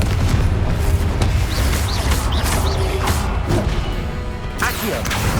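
A Confringo explosive spell from the Hogwarts Legacy video game bursts in a dense, loud blast. Crashing, creaking debris-like impacts follow in a busy battle mix.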